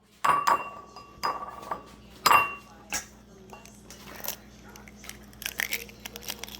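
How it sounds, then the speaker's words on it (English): An egg tapped against a hard bowl or pan edge for scrambled eggs: three sharp, close clinks spaced about a second apart, followed by softer scattered clatter and rustling. "we're gonna start by cracking the egg"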